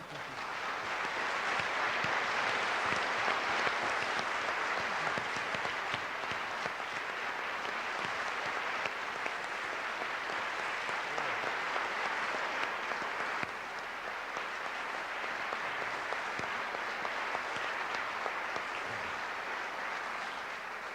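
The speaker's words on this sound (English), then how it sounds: "Would you please stand so we give you a nice round of applause, you guys?" Sustained applause from a university audience honoring World War II veterans, a dense, steady wash of clapping from a large crowd that holds for about twenty seconds with only a slight dip partway through.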